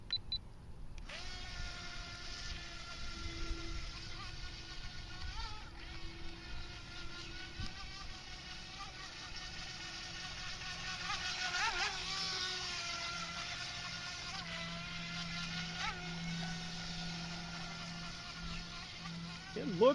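A DEERC YK080 radio-controlled boat runs at speed 3 on a pool or pond, its small electric motor whining steadily in a high, buzzy drone that rises and falls slightly over the whole stretch while a voice speaks now and then.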